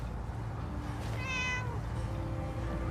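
A single cat meows once, clear and close, over a steady low hum in the video game Fallout 4's Far Harbor expansion.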